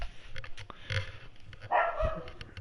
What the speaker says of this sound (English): And of course he still barks